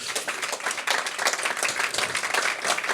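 An audience applauds after a spoken word poetry performance: dense, steady clapping from a crowd, close and loud, sustained with no voices over it.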